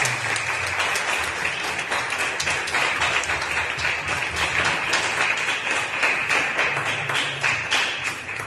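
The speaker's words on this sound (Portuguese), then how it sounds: "Você pode aplaudir a Jesus bem forte." A church youth-group congregation applauds strongly during a worship service, a loud, continuous roar of many hands clapping with sharper individual claps standing out throughout.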